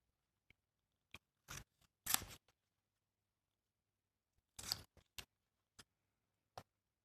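Scissors snipping paper to trim a stamp for a collage, several short, sharp, close cuts in irregular bursts with silence between them.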